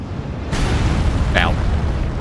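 A giant troll in Elden Ring unleashes a sudden roaring burst of fire breath, a broad loud whoosh that sustains under ongoing game noise, with a brief sharp flare partway through.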